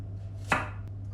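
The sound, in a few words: chopping fresh garlic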